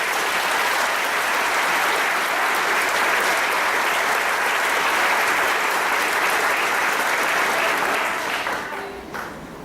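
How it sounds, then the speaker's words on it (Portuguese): Loud, sustained applause from a large church congregation during a sermon, steady throughout before tapering off at the very end. "Você pode aplaudir ao Senhor por isso?"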